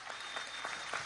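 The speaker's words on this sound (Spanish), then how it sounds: "Más un aplauso, son músicos y científicos además." Applause from an audience at an event with women scientists, greeting a group of musicians who have just played a medley of Venezuelan music; steady, fairly faint clapping that carries on unbroken.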